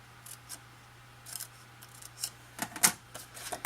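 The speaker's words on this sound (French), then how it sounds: "Alors je coupe les deux petites rainures jusqu'au pli" Scissors snip two small grooves into cardboard up to a fold, making close, quiet, sharp cuts that come in short irregular bursts and grow firmer toward the end, over a faint steady hum.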